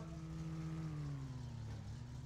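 A car engine in the video game My Summer Car drones steadily, its pitch slowly dropping as the green car passes by, heard faintly at a distance.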